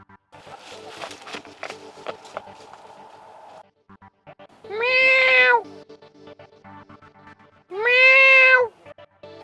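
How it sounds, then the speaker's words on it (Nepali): A cat meows twice, loud and close, with a pause between calls, after some light shuffling and rustling. "बिरालोले बाटो नै काट्यो"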